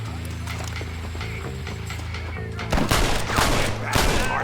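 Gunfire from a Red Dead Redemption shootout on Xbox 360 breaks out partway through, with several sharp shots over a steady low game music bed after a quieter opening.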